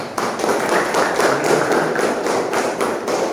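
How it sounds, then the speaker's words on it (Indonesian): A classroom of students clapping hands together in a dense, steady patter of many claps, fairly loud and close, with no talk over it. "Oke, tepuk tangan bagi Rasul."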